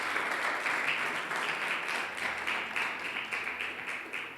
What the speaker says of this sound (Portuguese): Você pode aplaudir a Jesus Cristo por esta palavra?